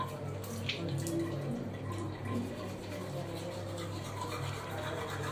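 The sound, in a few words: brushing teeth with a toothbrush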